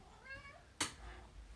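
A house cat gives one short rising meow, followed by a brief sharp rustle, faint and close in a quiet room.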